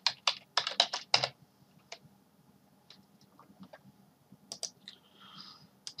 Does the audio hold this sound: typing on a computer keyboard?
yes